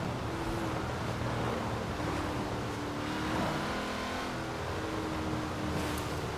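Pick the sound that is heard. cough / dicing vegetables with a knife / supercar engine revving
supercar engine revving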